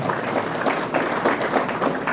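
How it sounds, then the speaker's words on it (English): A round of applause for a colleague's promotion at a sheriff's advisory council meeting, dense clapping from a room of people with a slightly pulsing texture, steady and fairly close, no talk over it. "give him a round of applause for that"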